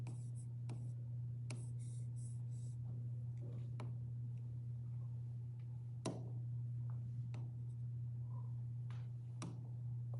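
Pen writing down an angle value during a maths lesson on solving a triangle, faint scratchy strokes and taps in short bursts over a steady low hum, alone without talk.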